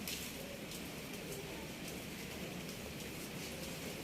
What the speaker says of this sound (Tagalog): Wala talagang tigil lang ulan eh